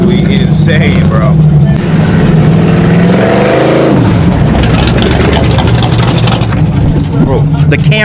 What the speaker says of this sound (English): That cam on that car sounds absolutely crazy.